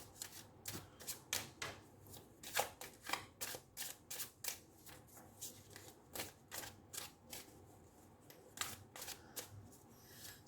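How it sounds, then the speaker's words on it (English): A deck of tarot cards being shuffled by hand in quiet, rhythmic bursts of crisp riffling and flicking, close and soft, repeating steadily with short pauses. "I shuffle all the cards before I keep them here"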